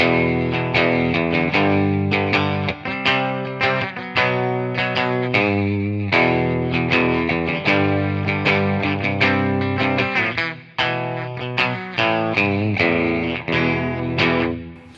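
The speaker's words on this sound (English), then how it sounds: "So this is kind of a clean thing on the bridge pickup." An electric guitar plays a steady run of plucked notes and chords, clean tone on the bridge pickup with slight reverb, bright and sustained, close and fairly loud with no voices.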